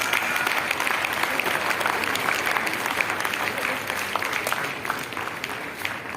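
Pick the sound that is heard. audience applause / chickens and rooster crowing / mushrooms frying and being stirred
audience applause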